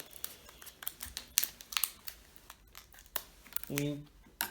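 Scissors cut through fishing tackle packaging at close range, with rapid crinkling plastic, sharp snips and rustling, plus a brief voice near the end.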